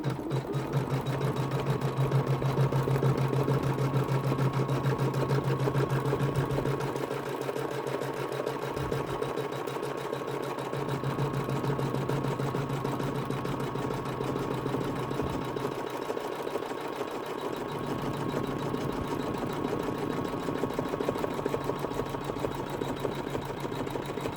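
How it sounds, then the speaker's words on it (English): An embroidery machine stitches a curved zip pouch with a steady, continuous mechanical whir and hum, holding an even rhythm with brief dips in the low drone, no voices over it. "Our main stitching is completed."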